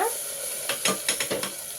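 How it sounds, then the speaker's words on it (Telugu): Green chili paste for a restaurant-style mutton kurma sizzles in a pan while being stirred, a soft steady hiss broken by several scraping stir strokes close by, with no talk. "ఈ పచ్చి వాసన పోయేంతవరకు బాగా వేగనిద్ది మరి"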